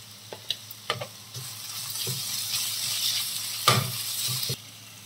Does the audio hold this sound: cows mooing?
no